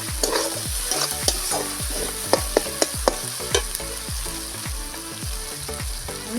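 Masala paste frying in oil and stirred with a utensil, making steady sizzling with repeated scraping clacks against the pot, close and continuous with no talking.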